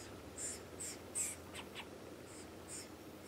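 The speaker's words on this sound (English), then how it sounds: "You can hear the babies in there making noise." Red-bellied woodpecker fledglings calling from inside a nest cavity, a few faint, high, brief squeaky calls spaced apart over a soft outdoor hiss.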